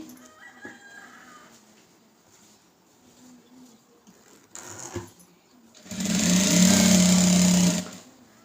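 A sewing machine stitches blouse lining in a short, loud continuous run of a couple of seconds near the end, following quieter handling noises and faint rooster crows in the background.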